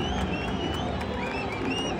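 Tigres supporters in the stands applaud as their team takes the field at Estadio TSM, a dense, steady wash of clapping and crowd roar with thin whistles over it, loud and continuous throughout.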